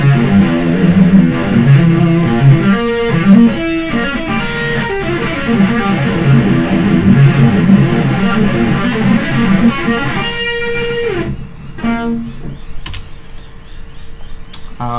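Fast metal-style sweep-picked diminished arpeggio patterns on electric guitar, a dense stream of quick cascading notes played alone at steady loudness, thinning out toward the end.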